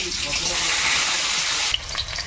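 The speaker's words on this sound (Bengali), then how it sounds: "তেলে একটু পেঁয়াজ কুচি দিয়ে দিলাম" Chopped onion fries in hot oil, giving a steady close hiss and sizzle for most of the moment. It cuts off abruptly into a quieter clink of utensils.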